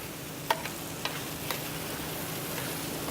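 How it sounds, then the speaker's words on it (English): Food frying in a pan on an oven deck gives a steady low sizzle, broken by a few faint clicks and scrapes as it is stirred. "I'm going to go ahead and give them a stir."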